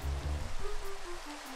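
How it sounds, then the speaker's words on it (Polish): Steady rain falls throughout, a broad continuous hiss with a low tonal hum underneath, fairly faint and with no voices. "Znowu pada."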